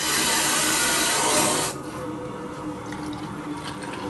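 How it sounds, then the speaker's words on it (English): Water rushing through household faucet pipes as the supply valve is reopened while flushing an electric water heater, a loud steady hiss and gush that drops to a quieter, continuous flow partway through, with no talking. "The valve is still open in the faucet, so the water's going to start running."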